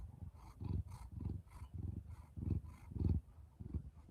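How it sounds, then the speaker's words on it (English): A cat purrs close by in low rhythmic pulses at a steady pace, each rumble rising and falling about twice a second, fairly quiet. "She's very good at purring."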